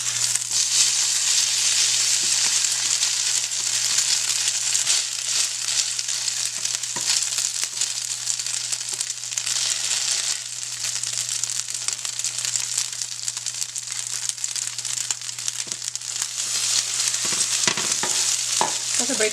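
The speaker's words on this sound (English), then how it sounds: "let's go ahead and try to flip this one, and it may break apart" A patty fries in a hot pan with a steady, dense sizzle throughout, interrupted by brief scraping and shuffling as it is flipped and may break apart; no one speaks.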